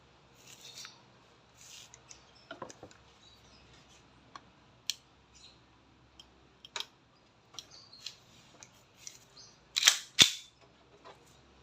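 A WE 2011 Hi-Capa T-Rex semi-automatic airsoft pistol fired through a chronograph gives scattered quiet clicks and handling ticks, then a couple of sharp, close snaps near the end. No voices are heard.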